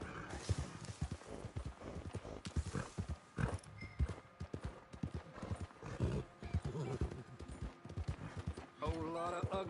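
Galloping horse hooves clip-clop steadily through a Red Dead Online game scene, with a whinny, while a character talks over the hoofbeats.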